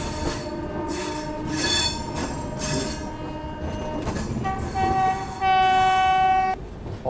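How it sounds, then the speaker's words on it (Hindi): Tirumala Express passenger train pulling away, its wheels squealing loudly in sustained high metallic tones that swell and sharpen toward the end, with rail rumble underneath and no talk. "क्योंकि ट्रेन जो है वो चल दी अब।"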